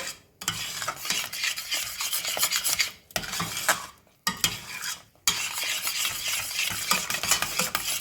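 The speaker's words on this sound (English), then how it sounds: "Continue to stir at this point so you do not burn the mixture" A spoon steadily stirs a thickened rhubarb mixture in a pot over heat, giving a continuous close scraping and rubbing with a light sizzle, broken by two short pauses.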